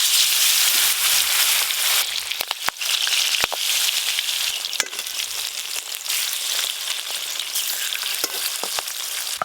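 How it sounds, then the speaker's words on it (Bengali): Bata fish sizzling as they fry in hot oil, a loud, steady, crackling hiss throughout with a few sharp clicks from a spatula or pan. "এবার মাছগুলো ভেজে নেব।"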